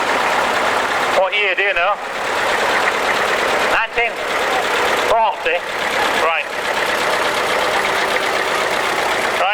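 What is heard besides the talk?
International Standard W4 tractor engine idling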